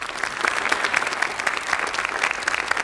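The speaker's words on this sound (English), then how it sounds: "What's with all the clapping?" An audience claps during a comedy talk show, producing a brisk, fairly loud run of applause with individual hand claps audible in the crowd.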